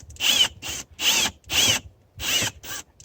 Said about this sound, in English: I've taken my Harbor Freight stepped up drill bit, put a zip tie on it as a stop